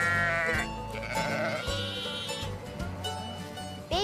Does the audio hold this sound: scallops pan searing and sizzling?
no